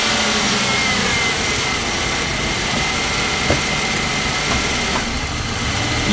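A 1992 Ford Explorer engine runs at a steady idle nearby, a constant droning rumble with a few faint clunks as the transmission is shifted into gear.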